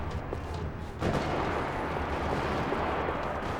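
Gunfire echoing across a parking lot in the Max Payne 3 video game, a steady dense rattle of shots that steps up louder after the first second and continues without talk.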